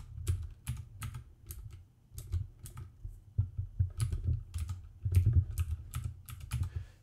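A name is typed on a computer keyboard in a close, irregular series of key clicks grouped into short bursts separated by brief pauses, with no talking.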